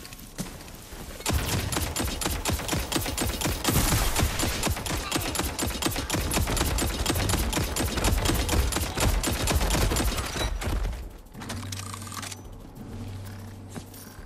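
Dense, continuous burst of rapid gunfire in a video game, loud and sustained for about ten seconds with crackling volleys, then cutting off abruptly to a quieter low hum.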